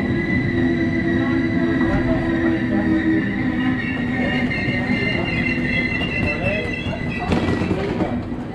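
Interior of a train running through Hamburg: a steady, even rumble of wheels and motor with faint high whining tones, smooth and continuous, a slight rise in noise near the end.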